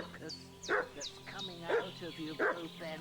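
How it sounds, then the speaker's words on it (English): A dog barks in a medieval village scene in the video game Kingdom Come: Deliverance 2, three short bark bursts about a second apart, moderately close, with game dialogue and ambience around them. "It's hard to fucking hear with the dog barking."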